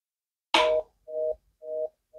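A cellular switch unit for aircraft pre-heating places a phone call, sounding a sharp click followed by three repeating electronic ringback tones, each about a quarter second, evenly spaced and clear against silence.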